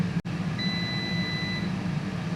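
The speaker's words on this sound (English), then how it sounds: "that's just finished its final beep of its time" A Cosori TwinFry air fryer gives one thin, steady electronic timer beep lasting about a second over the low hum of its fan, clear and close, with no voices.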